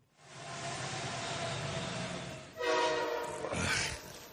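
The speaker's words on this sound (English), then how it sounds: "Well, that's a train." Train rumbling past with a steady loud roar, joined midway by blasts of its horn, ringing tonal bursts over the rolling noise.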